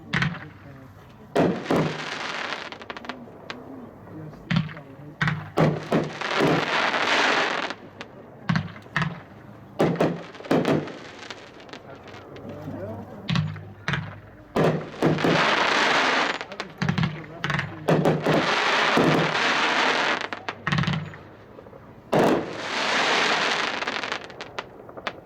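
A Leader of the Pack 16-shot 500 gram fireworks cake fires outdoors, with repeated loud bursts and crackling in several clustered volleys, booming thumps between dense crackle over about twenty-five seconds.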